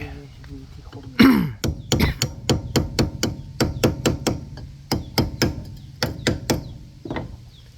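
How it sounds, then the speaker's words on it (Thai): A hammer pounds repeatedly while a gear is being fitted, starting with one heavy blow and a throaty vocal sound, then about fifteen sharp, evenly paced strikes close by. "เอาค้อนทุบๆหน่อยดิ"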